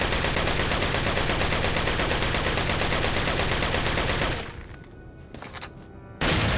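Sustained, dense shotgun fire in the video game Resident Evil 4, loud and continuous for about four seconds, then dropping to a quieter lull before a final loud burst.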